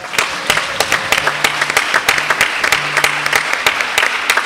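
A church congregation applauds during a Sunday worship service, a dense sustained clapping from many hands with steady sharp transients, fairly close and full, with faint tones beneath.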